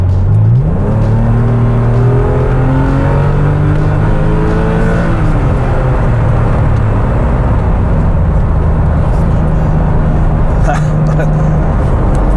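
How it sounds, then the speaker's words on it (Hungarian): A naturally aspirated Porsche 996 engine revs loud and close, its pitch climbing through repeated sweeps and gear changes while the car drives on a winding road, with sustained engine drone throughout. "De most elhallgatok, és hallgassátok a motorhangot."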